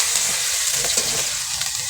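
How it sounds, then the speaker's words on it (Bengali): Soybean bori dropped into hot oil, giving a dense, steady sizzle and crackle of frying that holds loud and close for the whole stretch. "এবার বড়িটা গরম তেলের উপর দিয়ে দেবো"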